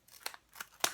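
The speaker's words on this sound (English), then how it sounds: "Cut off the top." Scissors snip through the top of a small plastic container for an OXO coffee maker, giving three quick, close, crisp cuts in under a second with no talking.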